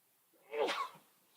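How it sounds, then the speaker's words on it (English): A single short, quiet sneeze bursts out in a brief sharp puff against near silence. "Sneeze"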